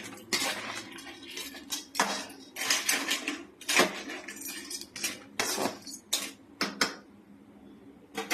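Crab curry being stirred in a cooking pot at home, with repeated loud scraping and clinking of a metal spoon against the pot in irregular bursts, no talking.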